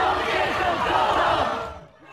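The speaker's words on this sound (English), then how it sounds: "The crowd boos, then forces him to leave the demonstration." A large crowd at a street protest demonstration boos and shouts loudly in a dense, sustained roar that tapers off after about two seconds.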